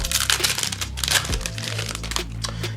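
A foil pack of 2021 Absolute Football trading cards torn open up close: a burst of loud crinkling and ripping, then softer rustling of the wrapper.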